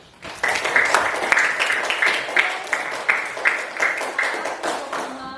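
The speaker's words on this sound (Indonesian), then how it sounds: "Tepuk tangan dulu" Classroom applause for a student group after a presentation at a junior high school, a steady patter of many hands clapping for about five seconds, fairly close and continuous.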